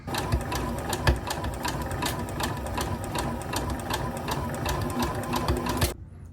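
A sewing machine stitches a 5/8 seam in lace tablecloth fabric with a fast, steady mechanical whir and rapid needle ticking, running alone and fairly quiet until it stops abruptly near the end.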